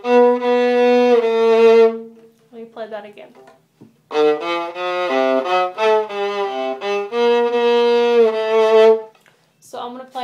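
A viola plays a run of short, separated notes, with a brief spoken remark among them.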